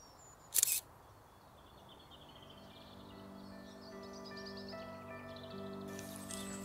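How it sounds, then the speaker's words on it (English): A single crisp camera shutter click near the start, taken while photographing water drops, followed by quiet ambience with faint high chirps. "And then we're going to take another picture."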